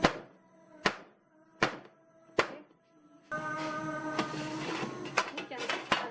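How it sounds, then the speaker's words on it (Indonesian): Four sharp, loud thuds spaced about a second apart as a freshly baked loaf of chocolate sandwich bread in its pan is slammed down just out of the oven, followed by denser clattering and handling noise. "Ini kalau sudah keluar dari oven, ini harus dibanting."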